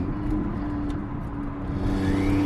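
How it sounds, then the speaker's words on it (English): A BMW 335i with a single turbo and a twin-disk clutch downshifts, the engine note holding a steady drone and then rising in a rev toward the end, close and moderately loud, with no talk. "That downshift was nice."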